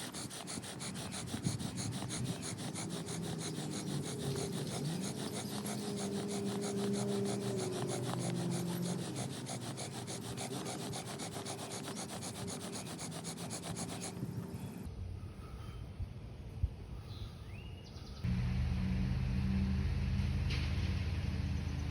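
Bow drill spindle spinning on a damp wooden fire set, a steady rasping friction rub with rhythmic back-and-forth strokes, close and continuous, pausing briefly before resuming louder.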